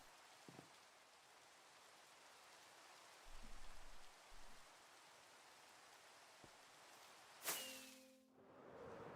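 Steady rain falls in the Minecraft video game as a soft, even hiss throughout, with a few faint thumps and one sharp sound near the end.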